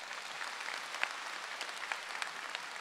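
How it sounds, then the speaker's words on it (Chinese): Faint, steady applause from an audience at a teaching session in Kuala Lumpur, a distant even patter of clapping with no voices over it. "鼓掌"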